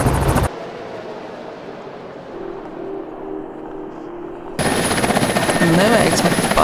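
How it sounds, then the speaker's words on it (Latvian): A GM Helicopters helicopter lands on a pad at a high-voltage power line tower site in Liepāja, its steady rotor and engine roar loud and close. The roar drops away for a few seconds, then returns strongly. "Helikopters nolaidies laukumā."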